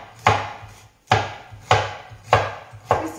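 Artichoke stems being chopped into small pieces with a knife on a board, five sharp evenly spaced thuds roughly every 0.6 seconds, close and distinct with quiet gaps between strokes.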